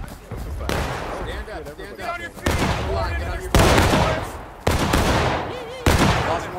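Massed rifle volleys crack out in War of Rights during a Georgia anniversary battle event, several loud ragged bursts of overlapping shots arriving every second or so, mixed with shouting voices between them.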